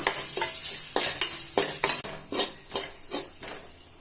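Grated coconut stirred and scraped in a hot pan of ghee over low flame with a soft sizzle, a spoon knocking against metal in an irregular rhythm, close up, no talking.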